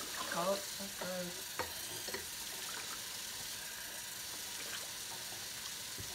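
Water runs and splashes as soap residue is rinsed out of a cup at a sink, a few short swishing bursts near the start, then a steady low stream.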